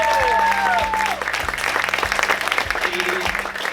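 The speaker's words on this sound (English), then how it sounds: "Let's give them a round of applause." Wedding guests clap for the couple, a dense round of hands rising after a moment of voices and music, with a steady thumping beat underneath.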